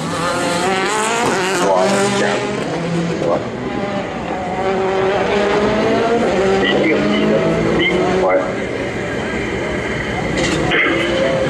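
Onboard a rally car, number 11, at the 2014 Rallye de Wallonie: a loud, revving engine rising and falling through gear changes, with the co-driver's voice heard over it inside the cockpit.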